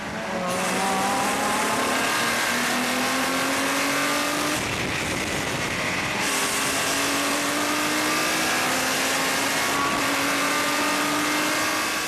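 Nissan race car at the 24H Dubai endurance race, heard close from a bumper-mounted camera: a loud continuous engine climbing through the gears in rising sweeps, each upshift dropping the pitch before it rises again.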